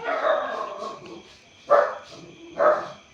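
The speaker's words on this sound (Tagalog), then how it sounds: "pasensya na po sa ingay ng aso ko" A dog barks three times, a muffled first bark followed by two sharp, loud yaps, close by with quiet background hum.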